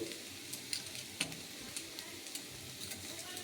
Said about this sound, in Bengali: সেটা কাঁচা লঙ্কা, সবগুলো এবার একসাথে খুব ভালোভাবে একটু ভেজে নেব।